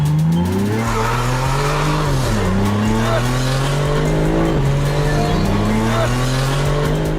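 A tuned BMW Competition with a carbon fiber hood and roof gives a loud, sustained engine drone, close by, with the pitch dipping and climbing as it revs over several seconds.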